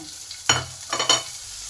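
Chopped tomato hits hot oil with fried cumin and dried chillies for a doi begun dish, a brief close sizzle with a few quick stirring scrapes.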